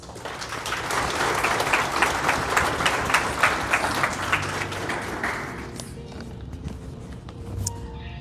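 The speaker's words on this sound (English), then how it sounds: "Let's give them one final round of applause" Audience applause at a Psi Chi chapter induction ceremony for outgoing chapter officers: a steady, dense round of clapping that tapers after about six seconds, leaving scattered claps and low room noise.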